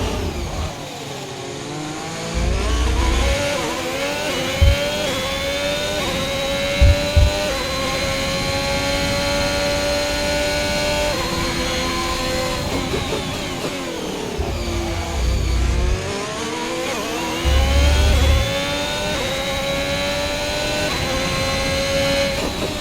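Race car engines from the F1 2021 racing game roar steadily on a final lap, pitch climbing and sliding through gear changes with two long rising sweeps, plus a few sharp low thumps along the way.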